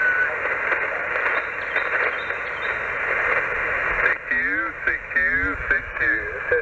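Amateur radio receiver tuned across the bands during portable backyard operation, giving a steady wash of static and hiss, then warbling, chirping tones as stations slide past while scanning, loud and continuous.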